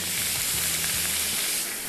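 Tomato paste and spice mix frying in a pan for Hyderabadi mutton qeema, a steady broadband sizzle running throughout with faint low stirring thumps, close and fairly loud, no talking.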